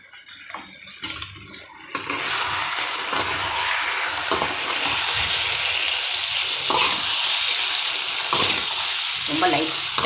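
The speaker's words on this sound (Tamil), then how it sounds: "ரொம்ப லைட்டாக கிளறினா போதும்." Food frying in a pan is stirred lightly. A steady, loud sizzle fills the clip after a brief quieter start, with occasional scraping strokes from the stirring.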